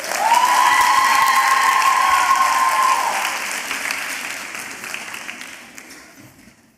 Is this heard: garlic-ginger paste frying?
no